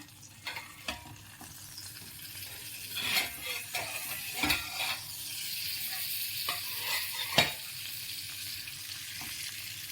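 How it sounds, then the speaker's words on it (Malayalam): Mackerel coated in masala spice paste sizzles steadily in a pan, fried on a banana leaf after being flipped, with scattered clinks and scrapes of a utensil against the pan over a continuous crackling hiss. "നമുക്കൊന്ന് മറിച്ചിട്ട് കൊടുത്ത് ഒന്നുകൂടെ ഒന്ന് വേവിക്കാവുന്നതാണ്"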